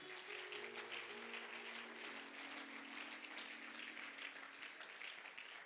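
A church congregation applauds steadily, a dense, even patter of many hands that continues throughout, with faint sustained tones humming underneath.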